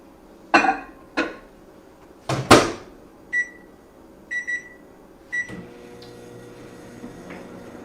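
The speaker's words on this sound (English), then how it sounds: "so we're going to put this back in the microwave for 2 minutes" A microwave oven is loaded and set: a door thuds shut, then sharp keypad beeps sound in a short series, followed by the low steady hum of the oven starting to run.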